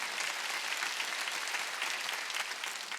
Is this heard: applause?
yes